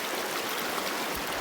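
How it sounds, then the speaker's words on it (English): River water flowing in a steady, continuous broadband rush, close and fairly loud, with no voices. "getting a little cleaned up in the river here"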